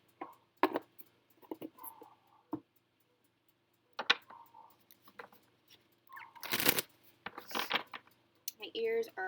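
Romance angels oracle cards being shuffled, soft scattered riffles and flicks that come in short bursts with quiet gaps between them, close by, and a voice talks at times.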